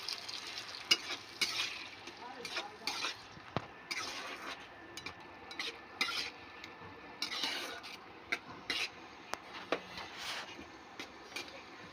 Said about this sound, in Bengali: মশলাটাকে আমি ভালো করে কষিয়ে নেব দেখুন বন্ধুরা আমার মশলা থেকে তেল ছাড়তে শুরু করেছে